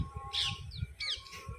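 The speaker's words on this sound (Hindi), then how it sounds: "ये है चिड़िया, और बहुत सारी चिड़िया देखो इधर से उधर झुंड में घूम रही है।" A flock of small birds gives a few bright chirps and short squawks nearby, over low rumbling background noise with no talking.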